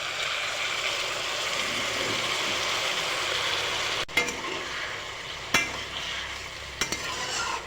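Sliced potatoes fry in a pan with a dense, loud hiss; after a sharp hit the sizzle thins and changes, with a few clacks of a utensil against the pan, and no voices.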